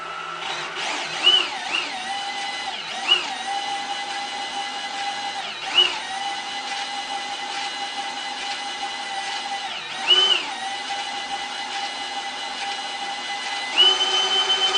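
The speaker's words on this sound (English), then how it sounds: "Well, I think I'm ready to try this with a sanding belt." A homemade round sander fitted with a sanding belt runs in a woodworking shop, giving a steady close motor whine with rhythmic thumps every few seconds, no talking.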